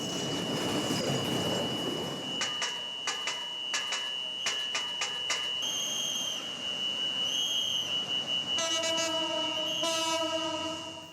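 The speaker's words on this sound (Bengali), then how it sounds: "সংকেত ছাড়াই চলছে ট্রেন, ভরসা শুধু গেটম্যানের হাতের ইশারা।" A train runs past a rail crossing: a rumbling approach, then clattering wheel bursts and repeated loud whistle or horn tones over continuous steady noise, with no talking.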